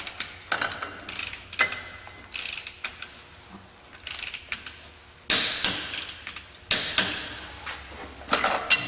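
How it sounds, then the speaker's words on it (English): A torque wrench ratchets as it tightens the clutch retaining bolt on a Polaris Sportsman ATV, close repeated clicking bursts in uneven strokes with short pauses between pulls. "We're going to torque this retaining bolt to 45 to 47 foot-pounds."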